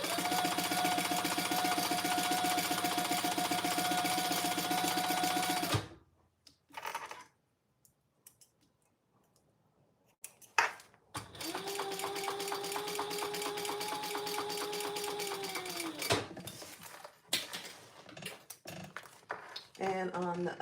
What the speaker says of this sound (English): top stitching on the vinyl